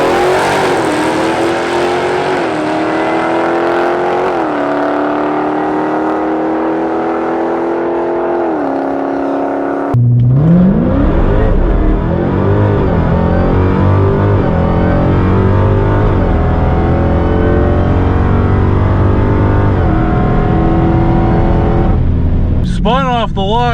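A Dodge Challenger Hellcat launching hard at a drag strip after spinning its tires off the line: a loud, close, sustained engine roar rising through the gears with a clear shift break midway, continuing at full power to the end.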